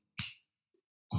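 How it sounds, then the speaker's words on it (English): Two crisp finger snaps sound close and clear, about a second apart, with near silence between them and no one speaking. "With snaps."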